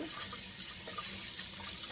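Tap water running steadily into a bowl while flour dough is rinsed to wash out starch for gluten, a close, continuous splashing hiss.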